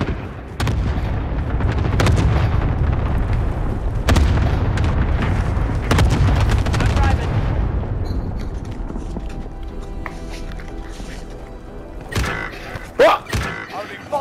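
Video game cluster airstrike: a string of heavy booming explosions with creaking debris fills the first several seconds, then fades to scattered bangs and quieter rumbling.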